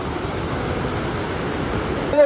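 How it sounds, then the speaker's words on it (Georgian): A waterfall in the Stori gorge of Tusheti, Georgia, pours with a steady, close, broadband rush of water that stays even throughout and cuts off abruptly just before the end. "ეს არის ჩანჩქერი კერე ძალაბაზი"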